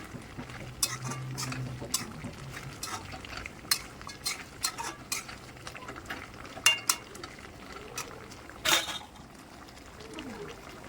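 Meat curry being stirred in a pot as its gravy reduces, with scattered scraping and clinking of a spoon against metal, fairly quiet and close, and a brief louder scrape near the end.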